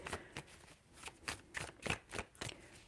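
Tarot cards are shuffled in quiet, repeated bursts, each soft rustling flick of the deck following closely on the last at close range.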